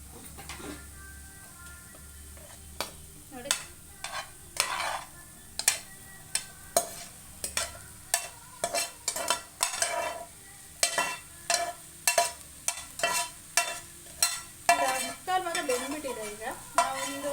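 Vegetables and spice powder sautéing in oil for a paneer vegetable kurma, with a ladle scraping and clanking against the pan in a steady series of sharp strokes over a soft background sizzle; no voices.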